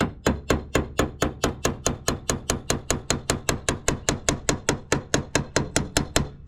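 A flathead screwdriver lightly taps a stuck HID low-beam headlight bulb on a 2009-2011 Acura TSX, giving about two dozen sharp, evenly spaced metallic clicks, steady and close, with no talking.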